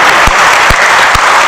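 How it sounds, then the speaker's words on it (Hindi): Audience applause at a Hindi poetry recitation, a loud dense wash of clapping that fills the whole short stretch, close and steady with no talk. "एक बार तालियां उठाइए"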